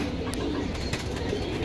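Racer and fancy pigeons at a crowded pigeon market in Keraniganj, Dhaka, coo steadily, with an occasional wing flutter over a busy background hum.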